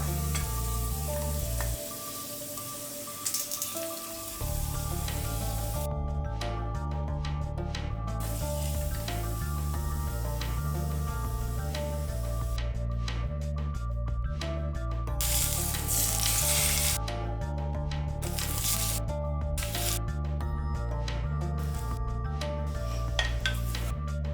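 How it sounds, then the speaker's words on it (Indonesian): Hot ginger oil is poured evenly over plated Hong Kong-style steamed fish, giving a steady, loud sizzle and crackle that carries through the whole stretch over a bed of background music. "tuangkan minyak jahe ke atas ikan yang telah di-plating secara merata"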